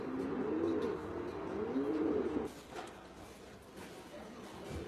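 Racing pigeons coo in a loft in Taiwan, soft rolling calls repeating close by for the first half, then fading to quieter background rustle and faint coos.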